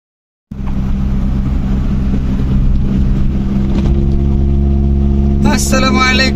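A car drives along a jungle road in Malaysia, its engine giving a steady, close mid-pitched drone throughout, with a brief higher burst of sound near the end.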